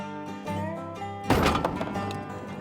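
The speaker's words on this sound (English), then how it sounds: "we'll be ready to fire our first shot" One loud, close shot from a tuned turkey shotgun fired at a target, a sharp boom over steady background music that decays over about a second.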